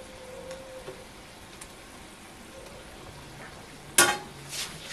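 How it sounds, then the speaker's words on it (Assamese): Fried pointed gourd pieces dropped into boiling gravy, a soft steady bubbling simmer with light stirring, then a sudden brief splashy sizzle as the pieces go in. "এতিয়া বইল আহি গৈছে ফ্ৰাই কৰা পুতলখিনি দি দিছোঁ"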